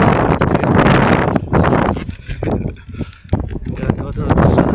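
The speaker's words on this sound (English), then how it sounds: "It's a bit chilly and it's extremely windy" Strong, extremely windy outdoor gusts buffet the microphone with loud, rumbling blasts that rise and ease in waves, mixed with some talking.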